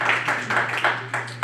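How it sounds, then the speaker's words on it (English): An audience claps in steady applause at a local arts event, a dense patter of many hands with rising and falling swells, fairly close and with no voices over it. "Let's give them a round of applause for their tremendous support."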